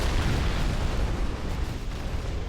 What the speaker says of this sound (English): That was your regular smart bomb.